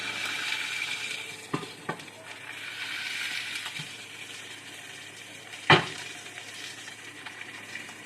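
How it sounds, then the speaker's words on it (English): A ribeye steak, one inch thick, sizzles steadily on high heat in a ridged grill pan while being pressed down, with a few sharper pops and clanks rising above the constant frying hiss. "Since this bitch has got grills, I'm pressing it down to really get them sear marks in there."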